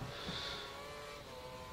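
Formula 1 race cars in the F1 2013 video game at the Malaysian Grand Prix, a steady loud engine drone with a high whine, continuous and close throughout.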